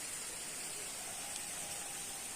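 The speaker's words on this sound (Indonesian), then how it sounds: "Di sini hujannya udah mulai turun." Rain falls steadily over rural countryside, a soft, even hiss that holds at a constant level throughout, with no talk over it.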